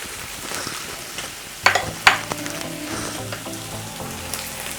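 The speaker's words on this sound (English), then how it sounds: "just put a bit of onions in it, let it cook." Onions fry in a pan with a soft, continuous sizzle, broken by a couple of sharp utensil clicks and scrapes as they are stirred, and a low hum underneath.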